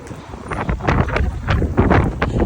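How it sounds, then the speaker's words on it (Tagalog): Strong wind buffets the microphone outdoors on a street lined with cherry blossoms, with loud irregular gusts of rumbling roar rising and falling throughout, no voices heard. "Sobrang lakas ng hangin guys."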